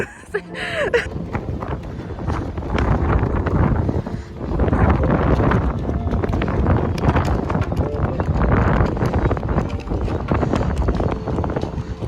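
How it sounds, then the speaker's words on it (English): Strong wind at the San Felipe fort in Cartagena, Colombia, buffets the microphone in a continuous loud roar and rumble throughout. "This wind is giving me the life that I need right now."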